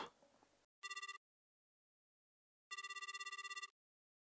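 A telephone rings late at night in a company dormitory in a motion comic. It gives two bursts of rapid electronic trilling, a short one and then a longer one, separated by silence after a brief noisy opening.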